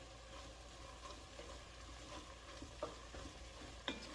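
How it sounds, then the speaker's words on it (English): Faint stirring of chili spices, garlic, oregano and black pepper in a pot: a quiet, steady background hiss broken by two soft spoon scrapes toward the end. "Stir that together."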